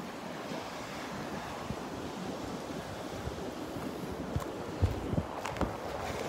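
Cold wind blows across Delnor-Wiggins beach, a continuous buffeting rush over faint surf, with a few gusts bumping the microphone and no talking.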